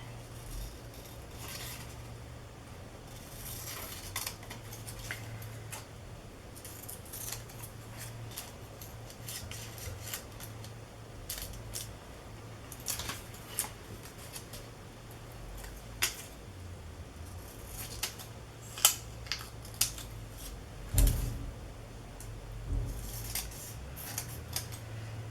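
Scissors cutting paper pieces for a journal, heard as quiet, scattered snips and rustles at close range, with occasional sharper clicks and a low background hum.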